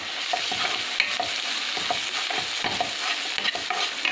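Tomatoes with salt sautéing in a pan, a continuous close sizzle with repeated scraping stirs of a spoon against the pan throughout.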